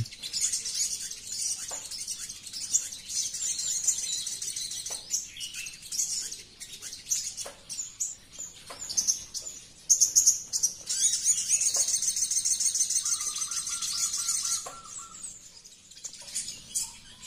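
Busy, high-pitched chirping and squabbling of two sogon birds fighting, with bursts of rapid calls and occasional wing flutters, close by and no talking.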